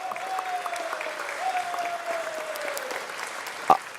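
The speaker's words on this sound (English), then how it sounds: "let's give him another round of applause while we're here" Applause from the audience in a Los Angeles city council chamber, fairly faint and steady with a thin tonal hum running underneath and one sharp knock near the end.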